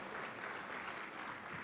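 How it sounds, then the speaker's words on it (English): Banquet audience at a broadcasters' hall of fame gala breaking into a sustained round of applause, dense and even, filling the room without a voice over it. "You need to give yourself a round of applause."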